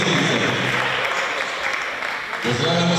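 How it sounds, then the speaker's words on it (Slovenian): Crowd applause at a youth basketball event in Slovenska Bistrica, greeting the home basketball players. The clapping is loud and dense and fills the hall. It dips briefly, then swells again near the end. "dajte velik aplavz domačinom, košarkarjem iz Slovenske Bistrice"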